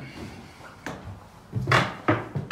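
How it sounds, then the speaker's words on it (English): Old wooden stairs in a Virginia home creak under footsteps while someone climbs them, giving a few separate groaning creaks and knocks that grow louder toward the end of the ascent. "It's the creaky of old stairs."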